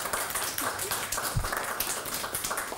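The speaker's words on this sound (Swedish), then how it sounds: "applåd igen!" A studio audience at a Swedish bingo-lotto television show claps in a steady, dense patter of applause that carries on without pause for a few seconds.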